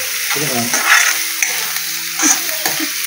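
Tomatoes sauté in a pan in a Konkan village kitchen, giving a steady close sizzle with soft scraping stirs and a few brighter spatters throughout.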